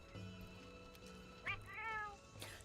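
A cat meows in Monster Hunter World, one short call followed by a longer drawn-out meow, faint and close against a quiet game backdrop.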